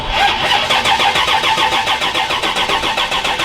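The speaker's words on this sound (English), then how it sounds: "Hey, it got it." A 1979 Pontiac Trans Am barn find cranking over, the starter turning in a fast, even rhythmic chug that stays loud and close for several seconds, with no talking.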